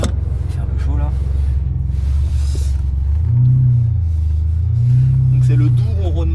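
A Ferrari V12 engine idles with a deep, steady rumble from inside the car, twice swelling in pitch as it is briefly revved, while people talk over it.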